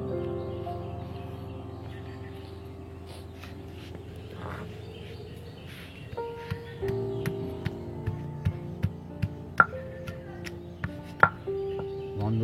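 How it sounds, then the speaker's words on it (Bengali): Boiled elephant apple (chalta) is crushed for pickle, with a series of sharp, regular pounding knocks that grow steadily more frequent in the second half, close and clear over a faint steady background hum and some birdsong. "সিদ্ধ করে রাখা চালতাগুলো আমি থেতো করে নেব।"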